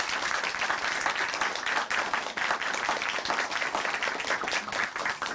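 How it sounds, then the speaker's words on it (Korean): A church broadcast audience gives sustained, dense applause after a testimony, the clapping even and full throughout, with no talk over it. "다시 한번 박수 보내드릴게요."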